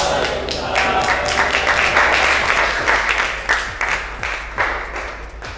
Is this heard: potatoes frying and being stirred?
no